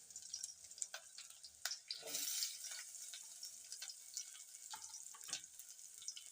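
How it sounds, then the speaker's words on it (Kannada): Chopped onion and green chilies fry in a pan with a faint, steady sizzle, broken by scattered clicks and scrapes of stirring and one brief louder hiss as ingredients hit the hot oil. "ಈಗ ಈರುಳ್ಳಿ ಹಾಕ್ಯಂತಾನೆ ನೋಡ್ರಿ"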